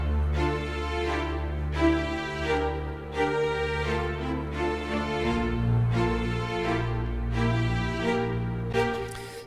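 Video game style orchestral strings play a sustained violin harmony over a simple root-note bass line, with chords swelling and changing every couple of seconds, full and steady with no talking.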